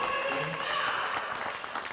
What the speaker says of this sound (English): And the round of applause there.